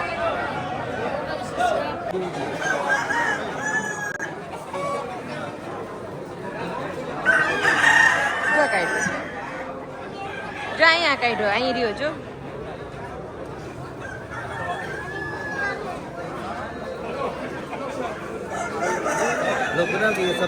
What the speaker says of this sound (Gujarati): એ પછી અમે મરઘા ફાઇટ જોવા ગયા હતા.